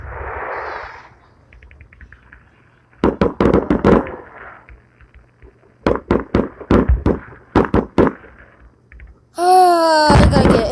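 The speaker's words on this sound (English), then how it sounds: "Oh, fireworks these days," Fireworks in Minecraft Pocket Edition go off in a run of sharp, punchy blasts, then a bright crackling burst at the end; loud and close, with quieter game ambience in between.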